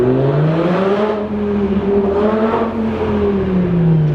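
A V10 Lamborghini Gallardo engine revs steadily with a deep, rising and falling drone, loud and close, with no talking.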